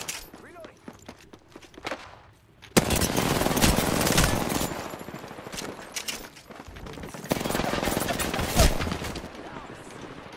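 Rapid bursts of gunfire in a PlayStation 4 shooter video game, with a quieter stretch of footsteps and scattered shots giving way to loud, sustained volleys that run nearly continuously, easing briefly before another dense burst.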